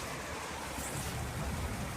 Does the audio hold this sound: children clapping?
no